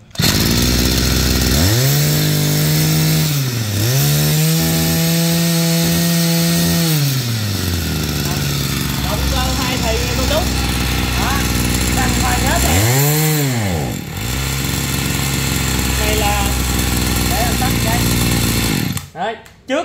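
A used Japanese four-stroke grass cutter engine is pull-started and runs with a loud, buzzing drone that revs up and drops back several times, heard close up over a noisy background, with someone talking between revs.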